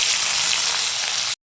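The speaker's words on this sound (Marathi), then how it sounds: "आता आपण त्याच्यामध्ये भेंडी टाकूया।" Okra dropped into hot oil in a pan after cumin seeds have crackled, giving a loud, dense frying sizzle that holds steady for about a second before cutting off abruptly.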